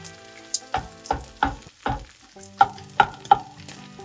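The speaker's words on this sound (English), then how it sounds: "Mix the eggs together well and start scrambling them into small pieces, as small as you can" Eggs scrambled and fried in a pan for egg keema curry, with steady sizzling under a series of about eight sharp scraping stirs and taps of a utensil against the pan, close and clear, with no talking.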